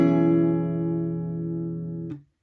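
A single guitar chord is strummed once and left to ring evenly for about two seconds before being cut off abruptly, played close and alone.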